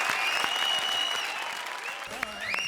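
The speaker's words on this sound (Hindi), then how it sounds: "जोरदार तालियां भारती और अभिषेक के लिए" Applause from a studio audience at a comedy show, a dense burst of clapping at moderate volume that tapers slightly, with a voice over it near the end.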